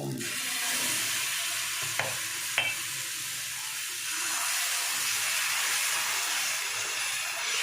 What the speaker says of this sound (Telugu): పిండి వేసుకొని అట్టేసుకుందాం